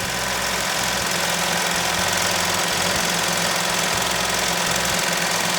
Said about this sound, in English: It'll begin stitching and it'll stitch that outline of the shape of where the fabric needs to go